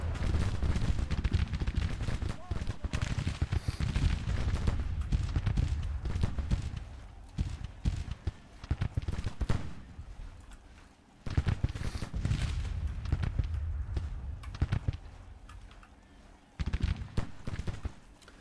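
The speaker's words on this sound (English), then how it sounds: "These guys are still shooting." Civil War battle gunfire from the strategy game Grand Tactician: The Civil War, with a continuous rolling crackle of massed musket volleys and distant booms over a low rumble, surging and easing in waves.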